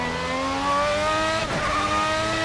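RSS Formula 1990 V12 race car engine in a racing sim, screaming at high revs in a loud, steady whine that drops sharply with a quick gear shift midway, then climbs again.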